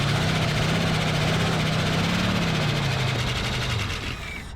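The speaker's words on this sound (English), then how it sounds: "I sure am hoping this motor quits chattering so much" A 1974 AMC Hornet engine, abandoned for 31 years, idles steadily nearby with a fast, rattling chatter running through its constant hum.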